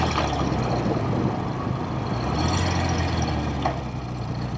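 A vintage BSA Thunderbolt motorcycle engine drones steadily and loudly while riding in gear, a constant rumbling roar with faint wind rush and no talk.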